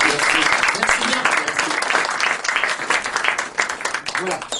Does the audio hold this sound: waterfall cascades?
no